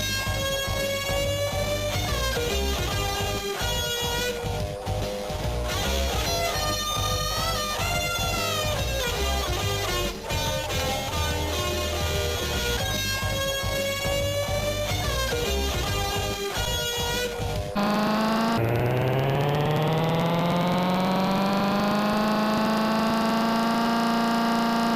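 Car engine from the Crazy Cars computer game: game music plays first, then near the end a loud synthetic engine drone rises steadily in pitch as it revs up.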